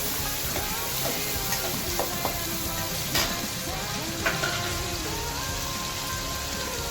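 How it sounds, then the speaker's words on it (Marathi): Chopped onion fries in hot oil in a pan for chicken biryani, giving a dense, steady sizzle and crackle throughout with a few sharper pops, close and fairly loud, with no talking. "तर मी त्याच्यामध्ये थोडासा कांदा तळून घेणार आहे परत"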